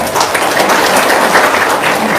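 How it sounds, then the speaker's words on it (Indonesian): An audience at an Indonesian motivational seminar on debt claps loudly and continuously, a thick, steady wash of applause with no voices standing out. "Tepuk tangan dulu dong."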